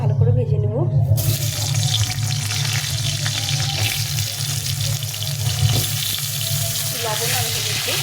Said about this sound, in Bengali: প্রথমে আলুগুলো ভালো করে ভেজে নেব।